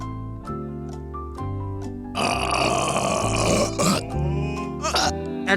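A woman burps after drinking Dom Pérignon champagne, one long rough croaking belch close to the microphone, followed by a short gulping sound and a second brief burp at the end.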